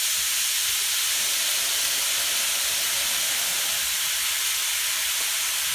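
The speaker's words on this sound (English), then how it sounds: "I'm getting ready to add this ground turkey to the pan." Ground turkey sizzling in a hot pan over medium-high heat, a loud, dense, continuous frying hiss with no breaks, close and without voices.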